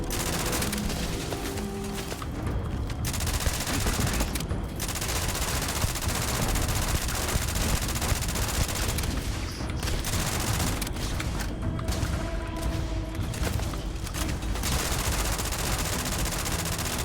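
Dense, continuous automatic gunfire from the player's gun in Starfield, loud and close, with brief pauses between long bursts and occasional booms mixed in.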